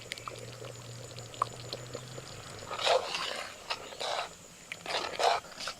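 Ghee is poured into a pot of bhog khichuri, giving a few short, soft liquid splashes and sizzles against a quiet kitchen background, with no talk.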